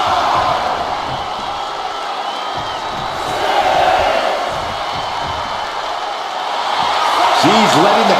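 A wrestling arena crowd in the video game WWE 2K25 roars steadily throughout, swelling and cheering in waves, with a commentator speaking over it.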